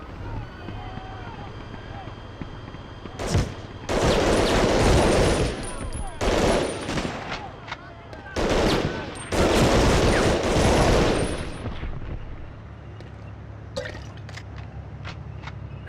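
MG42 machine gun fire in Medal of Honor Underground comes as two long, loud, rapid bursts with a shorter burst between them, each rattling over a low background hum, plus a few sharp isolated shots near the end.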